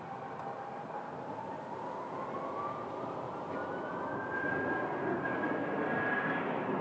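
An American Airlines jet departing Phoenix airport sends up a steady, broad engine roar with a rising whine, the sound swelling and growing slightly louder throughout with no talking.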